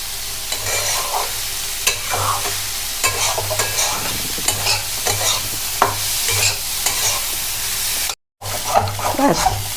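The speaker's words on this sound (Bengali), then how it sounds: "এবার ভাজা শেষ হয়ে এসছে" Red lentils sizzle steadily as they fry in a pan while a spatula scrapes and stirs repeatedly. A brief dropout breaks the sound near the end, and there is no talking.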